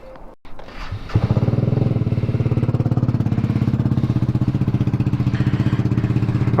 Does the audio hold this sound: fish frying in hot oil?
no